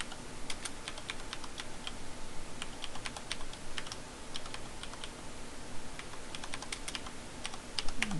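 Commands are typed on a computer keyboard during a file encryption lab, a steady run of close, crisp key clicks in irregular bursts over a quiet background hum, with no talking.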